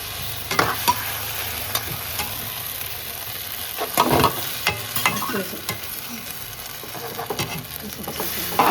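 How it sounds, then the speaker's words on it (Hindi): Potatoes coated with arrowroot fry in a pan under steady stirring, a continuous close sizzle punctuated by repeated scraping and clacking strokes of the spoon, no voices. "अब इसे अच्छे से भून लेते हैं थोड़ा सा।"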